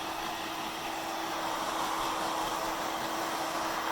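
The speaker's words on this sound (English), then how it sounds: "Notice I'm always pointing my blow dryer away from my client." A blow dryer runs continuously at steady volume while drying hair, a constant close airy whoosh with no pauses or voices.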